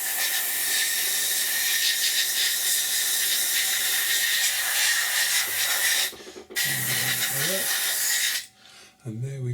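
An airbrush or spray sprays thick white paint onto an Academy F-16I Sufa model kit with a long, close, continuous hiss that breaks off near the end, followed by faint handling noises.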